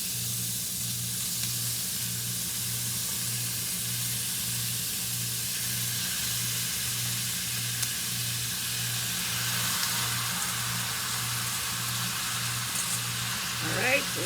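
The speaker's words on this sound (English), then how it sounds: "I am just going to add my mix of ground beef and ground pork into the pan." A mix of ground beef and ground pork sizzles steadily in a hot pan, a constant close hiss with a faint low electrical hum beneath and a brief stir or clatter at the end.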